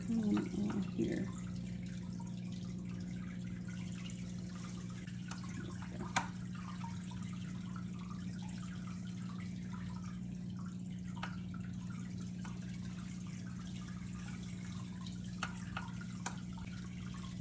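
New aquarium plants get rinsed under a running tap, a steady low stream of water with occasional faint splashes and drips, quiet and continuous with no talking.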